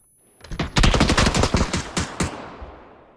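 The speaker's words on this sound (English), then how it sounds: "someone shot at me" A burst of rapid gunfire from the video game PUBG, about a dozen sharp automatic shots in quick succession, loud and close, with a decaying echo after the last round.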